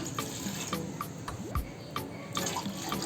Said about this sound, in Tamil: இதில் ஒன்றரை டம்ளர் அளவுக்கு தண்ணி சேர்த்துக்கலாம்